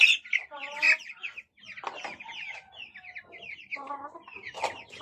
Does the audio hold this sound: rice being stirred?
no